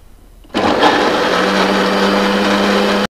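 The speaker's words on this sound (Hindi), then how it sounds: "बाकी सारी चीज़ें डाल दी हैं, और इनको ग्राइंड करेंगे।" An electric grinder blends ketchup and spices for a sweet-and-sour chutney, starting abruptly after a quiet moment and running as a loud, steady whirring drone until it cuts off.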